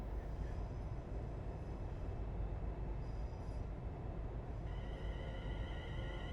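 Class 380 electric trains in the Train Sim World 6 game around Glasgow, a steady loud rolling rumble of rail travel with faint high squeals and whines joining near the end, no talking.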